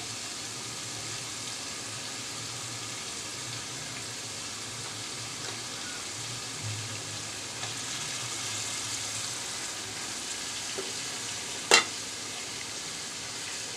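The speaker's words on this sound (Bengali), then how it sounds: "এখন আগে মাছ দিয়ে কষিয়ে নিচ্ছি" Raw katla fish pieces sauté in a pan as a quiet, continuous sizzle, with faint scraping of stirring and one sharp clink near the end, no voices.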